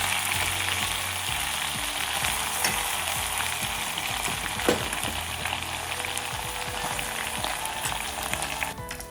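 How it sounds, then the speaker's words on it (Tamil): Dried anchovies (nethili karuvadu) fry in a pan of hot oil, giving a dense, steady sizzle and crackle that carries on without a break, close up and without any voices. "இப்போ அடுத்ததாக நான் நெத்தலி கருவாடை பொரிக்க போகிறேன்"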